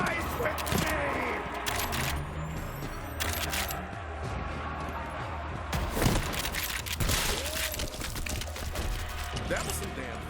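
Dense bursts of video game gunfire in Borderlands 3, loud and continuous with mechanical clatter throughout, overlapping with other game sounds.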